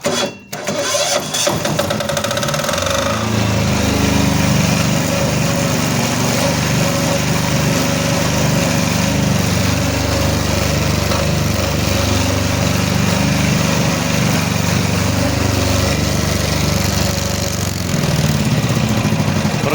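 A diesel generator engine, freshly fitted with a new fuel pump, runs in a loud, continuous close-up drone after a brief start-up, holding steady with no talk over it.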